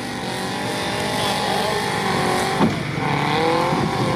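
Petrol engine of an off-road vehicle idling and revving just after starting in a swamp during an off-road event in Lithuania, a steady close motor drone with a rough edge and a brief bump partway through.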